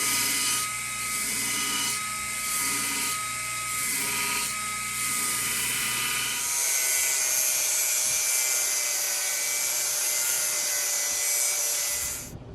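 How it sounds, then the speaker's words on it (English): An angle grinder rounds over the corners of H13 steel press tooling after forging, giving a loud, steady abrasive whine with a few rhythmic pulses as the wheel bites, then a brighter continuous grind to the end. "We'll break these corners and round them over on the grinder"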